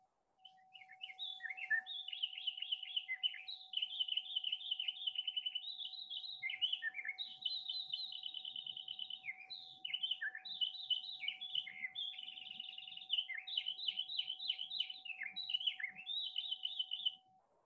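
A single songbird sings a long run of varied, high, warbling phrases one after another with short gaps, clear and fairly close over a faint steady tone and otherwise quiet background.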